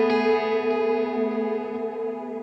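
A sustained electric guitar chord rings through the cloud reverb setting of an M-Vave Blackbox pedal, forming a smooth, shimmering wash that slowly fades, with no talking.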